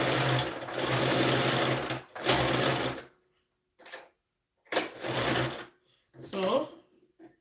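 A sewing machine stitches a boy's shirt in several bursts of close, fast, steady whirring mechanical clatter, separated by short pauses, with a voice speaking in between.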